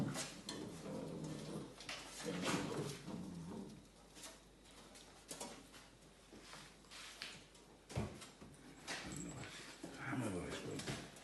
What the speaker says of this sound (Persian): این هم که سگ خوشگله منه که داره میره بالا